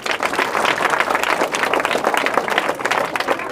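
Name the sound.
audience clapping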